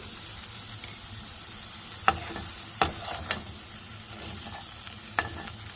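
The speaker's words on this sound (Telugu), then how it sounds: "దీంట్లో కార్న్ కూడా చక్కగా ఫ్రై అయిపోయాయండి" Corn for tacos fries in a pan with a soft continuous sizzle, broken by a few sharp spatula stirs and scrapes.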